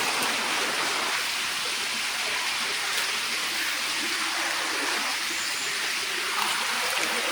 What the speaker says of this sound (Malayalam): ഇവിടെ ഈ തോട്ടിൽ നിന്ന് വെള്ളം ഒഴുകുന്നുണ്ടല്ലോ